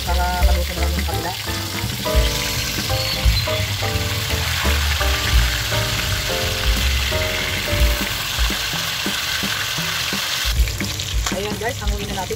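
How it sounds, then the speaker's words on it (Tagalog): Dalagang bukid fish frying in a pan of hot oil alongside vegetables, a loud steady sizzle broken by repeated clattering stirs and utensil knocks throughout, with no one speaking. "balik na rin natin yung ating isda para maluto naman yung kabila"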